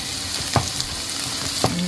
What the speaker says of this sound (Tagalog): nagigisa na tayo ng bawang at sibuyas